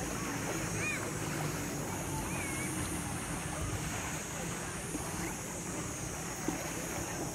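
Waves wash onto a beach in Sousse, Tunisia, a steady broad surf roar mixed with wind buffeting the microphone, continuous and fairly close, with no talking.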